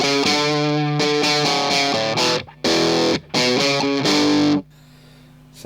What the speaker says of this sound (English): Buzzsaw, which is the satisfaction fuzz,